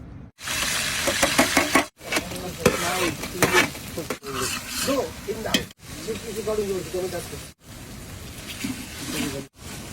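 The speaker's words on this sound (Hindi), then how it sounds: "ऑयल डालेंगे, फिर प्याज फ्राई" Onions fry in hot oil with a busy sizzle and scraping stir strokes. A voice talks over it, and the sound cuts off in short breaks.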